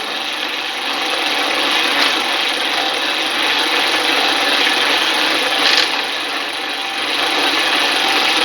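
A rotating machine shaft turning anti-clockwise, giving a steady, loud broadband mechanical whir with grinding, rubbing texture, even throughout, with a couple of brief brighter swells.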